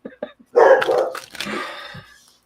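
Dogs barking close by and loud in a home during a live stream, a few short yips followed by a long, strained bark that trails off, with a voice briefly mixed in.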